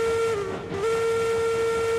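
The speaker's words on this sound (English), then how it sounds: "Let's blow that whistle for some good luck here" Steam locomotive whistle in Railroads Online, a loud sustained tone held for the whole moment with a short dip partway through, close and alone.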